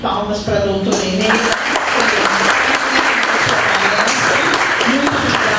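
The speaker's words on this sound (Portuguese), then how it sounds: "uma salva de palmas para a doutora Inês" Sustained applause from a seated conference audience for the invited speaker at a closing lecture on research ethics, steady and dense throughout, with some voices mixed in.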